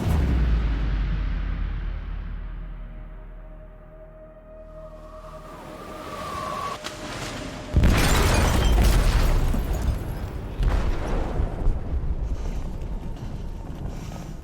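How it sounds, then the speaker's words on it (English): A heavy explosion bursts inside a ship's hold in the video game Detroit: Become Human, a loud broadband boom that follows a quieter rumbling stretch, with lingering roaring debris and water-like noise afterward and a few later bursts. "They detonated an explosive in the hold."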